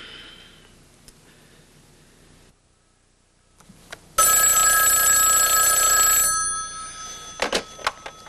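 Telephone ringing as a call is placed to a father: quiet room noise and a brief silence, then a loud, close electronic bell trill for about two seconds, followed by a few sharp clicks.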